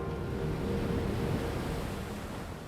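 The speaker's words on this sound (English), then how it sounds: "You'll see waves coming up the beach, coming down, crossing." Ocean waves roll up a beach and collide where their paths cross near a submarine canyon edge, forming a steady, loud, close surf roar with no distinct break.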